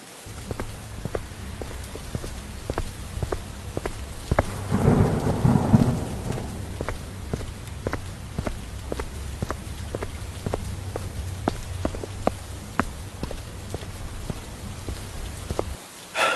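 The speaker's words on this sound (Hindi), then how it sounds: "बारिश बहुत तेज थी" Heavy rain pours steadily, with a low thunder rumble swelling in the middle before easing back into the constant downpour; no one speaks.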